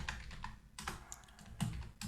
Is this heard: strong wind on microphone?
no